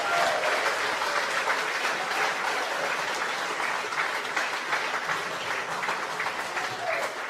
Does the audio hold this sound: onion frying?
no